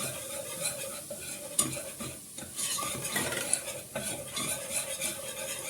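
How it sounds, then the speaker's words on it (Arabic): Ghee and flour being stirred in a pan to make a roux, with steady scraping of a spoon against the metal and a soft sizzle underneath, plus a few sharper clinks; no one speaks. "دلوقتي انا حطيت هنا معلقتين سمنه، معلش معلقتين دقيق، ونقلب"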